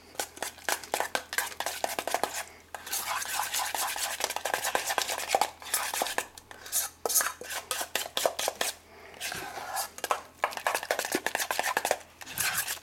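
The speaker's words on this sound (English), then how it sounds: "And then we're going to mix this." Deviled egg yolk filling, seasoned with salt, is mixed in a bowl with a utensil: a close, busy run of scraping, clinking strokes against the bowl that pauses briefly now and then, with no talking.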